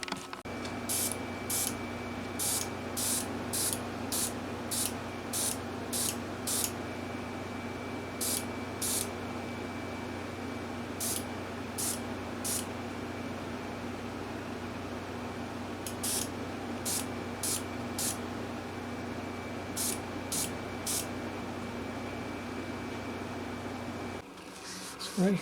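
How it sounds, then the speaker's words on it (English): An airbrush sprays cherry red paint onto a 1997 Gibson Dove acoustic guitar in short, repeated hissing bursts, grouped in quick runs with pauses between them, over a constant low background hum. "So 20 drops of cherry red. And we'll load up the airbrush."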